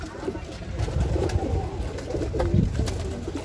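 Racing pigeons coo at close range as they return to their loft, a continuous soft, throaty murmur with repeated rolling coos over light background noise.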